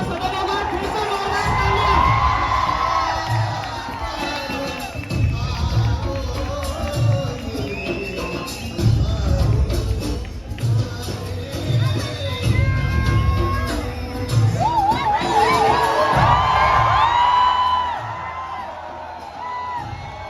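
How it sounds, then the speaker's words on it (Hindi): A large student audience at a university event featuring the founder of Apna College cheers, shouts and whoops loudly and continuously, with a dense crowd roar sustained throughout and applause mixed in. "मैं आप सबसे एक बार रिक्वेस्ट करूंगा कि जोरदार तालियां बजा दीजिए।"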